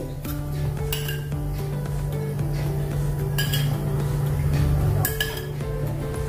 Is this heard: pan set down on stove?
yes